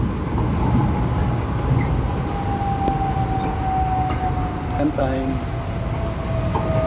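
An MRT metro train runs at Bang Kapi Station in a loud, continuous rumble with a tonal whine near the end, while a person talks over it.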